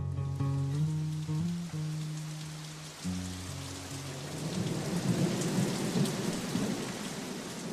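A thunderstorm during a YMCA charity golf outing brings steady heavy rain hissing on surfaces, with low rolling thunder rumbling through; a droning tonal hum fades out early as the downpour grows louder.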